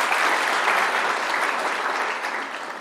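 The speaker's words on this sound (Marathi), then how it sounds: "त्यामुळे एकदा या सर्व शिक्षकांसाठी जोरदार टाळ्या व्हायला पाहिजे।" Loud, dense applause from an audience honouring teachers at a 2025 felicitation ceremony, a steady wash of many hands clapping together for a few seconds.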